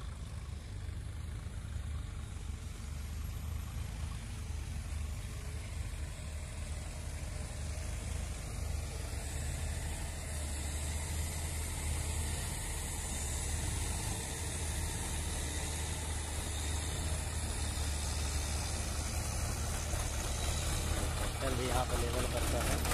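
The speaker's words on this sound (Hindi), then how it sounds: "वहाँ ट्रैक्टर चल रहे हैं।" Tractors and bulldozers work a construction site levelling ground, giving a continuous low rumbling engine hum at moderate distance, with faint voices underneath.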